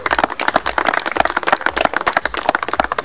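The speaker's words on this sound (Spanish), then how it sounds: "un aplauso para el sponsor" An audience at a clay-target shooting tournament gives a round of applause for the sponsor, sharp individual claps in a lively irregular rhythm, close and fairly loud.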